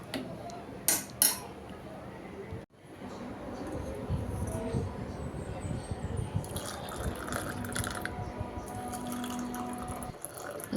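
Tea poured from a pot into cups in a home kitchen, opening with a couple of sharp cup-and-spoon clinks, then a steady close liquid stream with light splashing that runs to the end.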